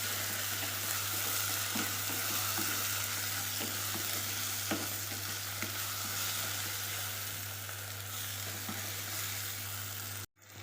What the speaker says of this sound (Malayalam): നല്ലോണം ആ മണം മാഞ്ഞൊന്ന് വഴറ്റിയെടുക്കും.